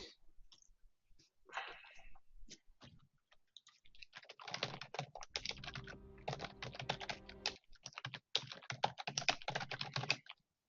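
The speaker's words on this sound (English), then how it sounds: "I hear you typing." Rapid typing on a computer keyboard, close and clear, starts sparse with scattered clicks and then builds into dense continuous bursts of keystrokes.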